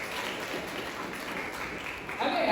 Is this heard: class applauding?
yes